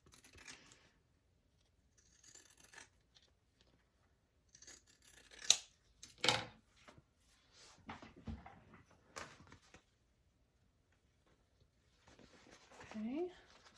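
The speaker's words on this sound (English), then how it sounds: "I'm gonna trim my sides and my corners before I turn it through again" Scissors snip along the sides and corners of a sewn fabric wristlet, a handful of short, crisp cuts scattered between pauses, close and fairly quiet, with a voice talking softly over parts of it.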